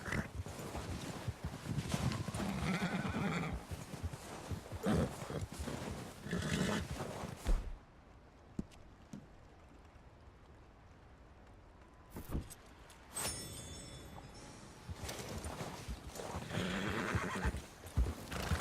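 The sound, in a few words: white Arabian horse being broken, neighing, Red Dead Redemption 2 video game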